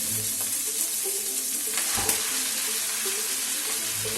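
Frozen spaghetti sizzles and fries in a pan, a steady, even hiss that runs the whole time with a faint clink near the middle and no speech over it.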